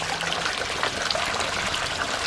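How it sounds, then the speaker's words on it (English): Water trickling steadily in a tropical spice garden in Penang, a soft continuous splashing babble close by with no one talking. "the trickle of water"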